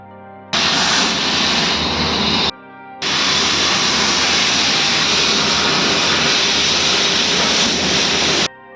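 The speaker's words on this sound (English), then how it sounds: "Then it's loaded and placed on a laser cutting machine. Then the laser cutting has started and progressed." A laser cutting machine cutting 1.5 mm mild steel sheet gives a loud, steady broadband roar and hiss that starts abruptly, cuts out briefly, then resumes and holds constant before stopping sharply.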